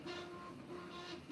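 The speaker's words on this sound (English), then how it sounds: "that noise you hear in the background is a 3D printer" A 3D printer runs steadily in the background, a faint continuous mechanical hum with a sustained whining tone and subtle rhythmic motor shifts, no speech over it.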